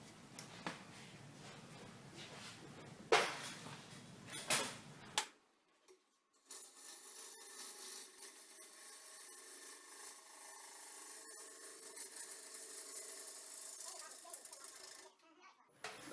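A lathe gouge roughs a wet wood bowl blank cut from a log, passing through a knot. Scraping and chattering cuts come in uneven bursts with thumps, some sharp knocks early on, then a steadier grinding rasp.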